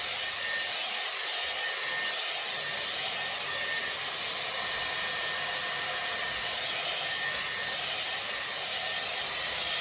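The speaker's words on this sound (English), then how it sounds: "So I'm just going to start through the crown, work my way through with my usual blow dry technique, and I'm going to use high speed and medium heat." A Dyson Airwrap blow-drying hair on high speed and medium heat, a constant close whooshing hiss of blowing air with faint brushing and rubbing through the hair, running steadily without pause.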